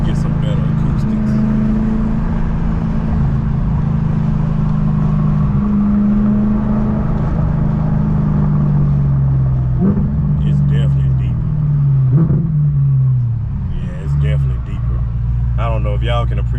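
A supercharged Audi B8.5 RS5 with a JHM exhaust drives at low speed, heard from inside the car as a loud, steady low engine drone that shifts in pitch with the revs, with brief faint sounds over it.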